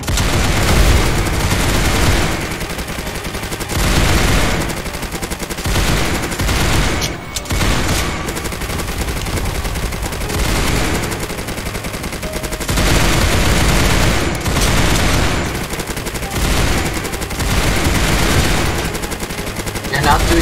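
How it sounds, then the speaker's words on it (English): A heavy machine gun blasts away in the Roblox game Zombie Uprising, sustained loud automatic fire rolling on almost continuously with brief dips, dense and close throughout. "I'm gonna use my heavy machine gun."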